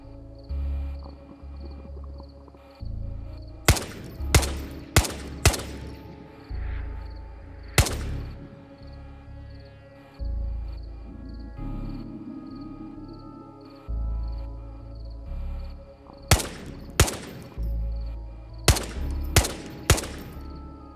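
Gunfire in the VR shooter Ghosts of Tabor: sharp, loud single shots and quick clusters of several rounds ring out over a quiet night backdrop of insect chirps, with pauses between volleys.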